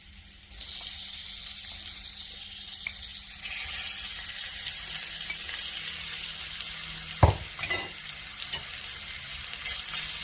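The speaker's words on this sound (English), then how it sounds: "Now, we're going to add our beef." Beef added to a hot pan for a lemongrass stir-fry sets off a steady bright sizzle of frying that starts about half a second in and holds throughout, with a couple of louder clanks of utensil on pan near the end.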